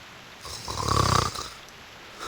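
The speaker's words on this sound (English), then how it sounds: "What we want to know is how an apple can snore." A single long snore rises and falls in a quiet room, loud and close, with a low rumbling inhale and nothing else around it.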